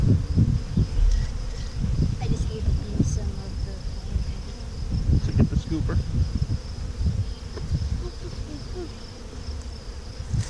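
Honeybees hum and buzz around an open hive during an inspection as a beekeeper scoops bees for a mite check, with people talking intermittently over the steady drone and handling knocks.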